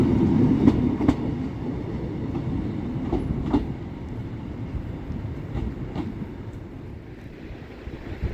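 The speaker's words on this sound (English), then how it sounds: "let's just see this train depart" A train pulls away from Saltburn station, a steady low rumble with rhythmic wheel clicks over the rail joints, close and loud at first, then easing off as it moves away, with no talking.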